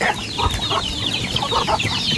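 Several chickens cluck nearby in short, repeated bursts, a busy flock chattering with no one speaking.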